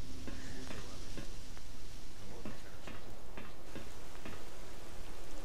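Rain falls steadily in the video game S.T.A.L.K.E.R.: Call of Pripyat, a dense wash of noise with scattered sharp drip-like ticks throughout.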